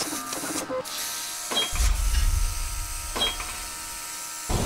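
A battery-powered iBeautee airbrush spraying paint over a template on a bull skull, with a steady hiss of air under short mechanical clicks and a low buzzing burst in the middle.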